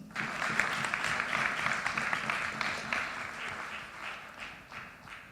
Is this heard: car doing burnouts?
no